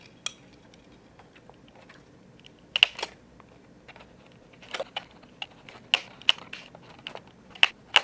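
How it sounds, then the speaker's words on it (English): A handheld hole punch snapping through a paper heart shape, a series of sharp, close clicks at irregular intervals, several in quick succession toward the end, over a quiet background. "we're going to take the hole punch and cut holes all around"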